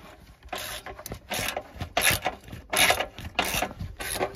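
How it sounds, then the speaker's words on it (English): A ratchet wrench clicks in quick rhythmic bursts at close range while captain's seats are fitted into a 1995 Chevy shorty van, the strokes coming in a steady back-and-forth pattern. "Such a good little"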